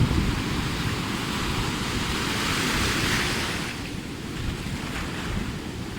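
Pacific Ocean waves crashing on a shore, a steady loud roar of surf with a broad rushing wash that swells and slightly eases, mixed with some wind noise and no voices.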